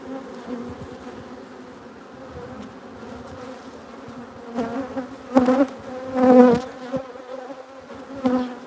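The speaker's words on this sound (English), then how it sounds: "Gee, there's some bees in there" Honeybees inside a hive box seen from underneath while being fed, a steady close buzzing that swells louder toward the end, with no talking.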